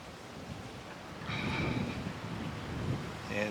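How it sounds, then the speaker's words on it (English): Gusty wind blowing outdoors around a battery-operated pellet grill, a steady broadband rush that swells louder partway through, with brief faint tones but no speech. "This wind is not cooperating, huh?"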